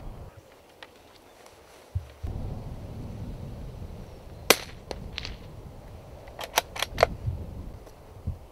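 A .22 rimfire rifle fires at a rabbit roughly 70 yards away in the countryside, giving a sharp single crack over quiet outdoor background with scattered small clicks and handling noises.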